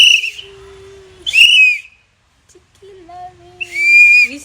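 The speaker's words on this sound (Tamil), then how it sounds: "விசில் யார் கொடுத்தா?" A toy whistle blown in sharp high-pitched bursts, three separate blasts with pauses between them, alongside a softer lower whistling tone, close and loud, with no talking.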